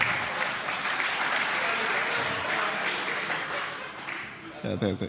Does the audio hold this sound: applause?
yes